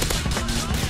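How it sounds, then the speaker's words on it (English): Rapid shotgun blasts in GTA 4, loud and close, several bursts packed into a second of dense gunfire with no talking. "Bro got a shotgun above me, bro."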